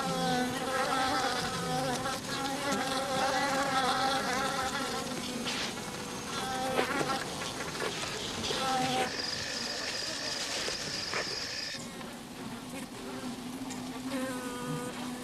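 Honey bees buzzing around a comb in a hive raided by a honey badger, a dense, continuous drone of many wings with shifting pitches, close and steady throughout.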